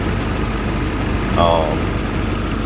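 A Jeep Wrangler engine with over 200,000 miles idles with a steady, close mechanical hum and a faint, light ticking running through it.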